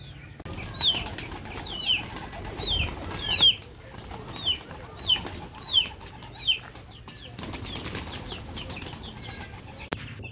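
Pigeons coo in a steady series of soft calls, mixed with fluttering wings and light rustling nearby.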